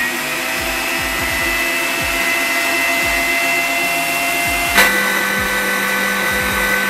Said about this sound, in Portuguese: E agora nós vamos abaixar nossa batedeira e vamos bater